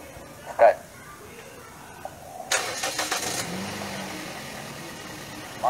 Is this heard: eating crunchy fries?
no